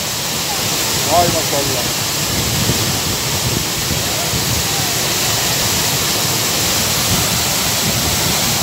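Çiseli waterfall in Ordu roars steadily as water crashes onto rocks, a loud, constant broadband rush close by, with a brief exclaiming voice near the start.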